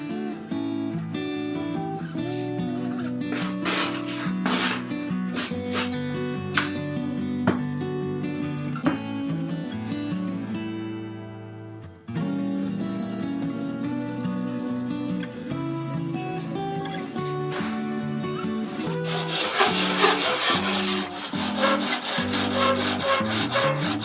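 A wide sanding board rubs back and forth across a wooden acoustic guitar top in steady, rhythmic strokes, close and clear. The scraping pauses briefly midway, then resumes more vigorously.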